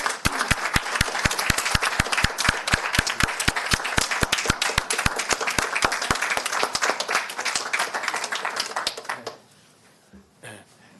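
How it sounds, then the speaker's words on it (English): A small gathering at a Board of Supervisors meeting applauds the foresters, a loud, close run of distinct, fairly rhythmic claps over a softer crowd patter, stopping abruptly near the end and leaving quiet room noise. "I want to give them a round of applause and thank you from everybody"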